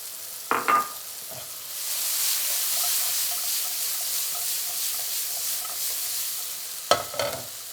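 Onions added to a pan of browned mushrooms set off a broad, steady frying sizzle, close and continuous, with a couple of brief clattering stirs at the start and end.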